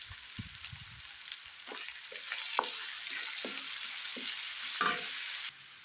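Sliced onions sizzle steadily in a hot pan seasoned with pink salt, with a spoon scraping and stirring at intervals through the frying, close and moderately loud, for a Telugu-style broccoli tomato curry.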